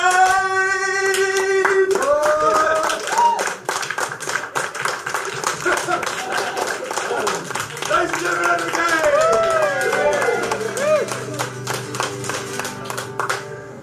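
Audience applause during a theatrical musical number, a dense crowd clapping that swells after a sung note and carries on loud and steady for over ten seconds, with scattered voices and laughter mixed in.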